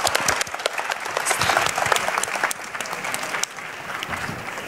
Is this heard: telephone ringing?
no